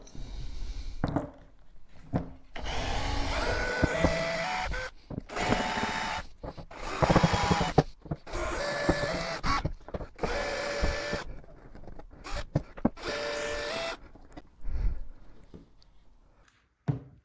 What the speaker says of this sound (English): Now we'll get these bolts out and open it up.